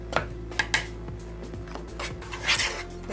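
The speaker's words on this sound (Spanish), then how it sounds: "Vamos a revolver todo esto muy bien. Que se incorpore el consomé y la harina." A utensil scrapes and clinks against a bowl while a flour and chicken bouillon mixture for buffalo wings is stirred, giving close, irregular knocks and rubbing scrapes with a few sharper clatters.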